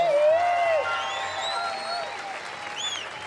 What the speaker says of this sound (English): Give them a big round of applause, everyone.